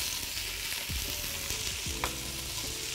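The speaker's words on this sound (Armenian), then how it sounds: "մի փոքր այսպես տապակենք" Food sizzles steadily in a hot pan while being stirred, with scraping strokes of a utensil cutting through the continuous frying hiss.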